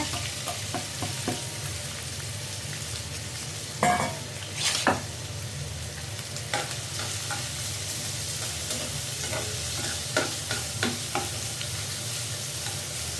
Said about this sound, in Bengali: দিয়ে দিচ্ছি তেল, পেঁয়াজ একটা,